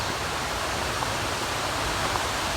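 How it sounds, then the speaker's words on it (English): A mountain creek in the Great Smoky Mountains, along the Jakes Creek trail, flows with a steady, even rush of water that holds constant and fairly loud from start to finish. "So I can hear water all around me."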